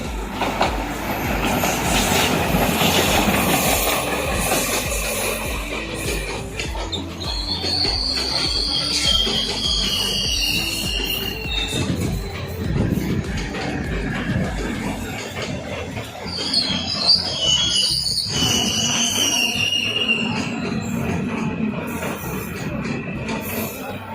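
A train at Delhi Cantonment railway station, on a route toward Jodhpur, rumbles steadily and loudly, with clattering wheels and high metallic squeals rising over the noise. No one speaks.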